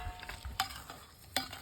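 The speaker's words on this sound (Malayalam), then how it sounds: "നെയ്ക്കകത്ത് കറിവേപ്പില വറുത്ത് പോരിട്ടില്ലായിരുന്നു" Curry leaves fry in ghee for a sweet flattened-rice (aval) dish, a soft low sizzle running under a few sharp scrapes and taps of a stirring spoon, quiet and close.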